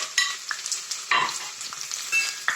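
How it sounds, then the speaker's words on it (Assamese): Large-cut chopped onions fry in hot oil for a butter chicken curry, a bright steady sizzle broken by a few sharp scrapes and stirs, with no voices. "এনেকৈ পিঁয়াজখিনি মই অলপমান কোমল হোৱালৈকে ভাজি থাকিম"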